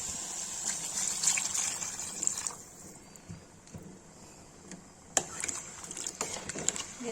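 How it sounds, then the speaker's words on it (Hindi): Water splashes into a hot pan of frying masala for soya chunks, with a hissing, gushing sizzle that is loudest at first, then settles into a softer crackle with a few small clinks. "इसमें पानी डाल देंगे।"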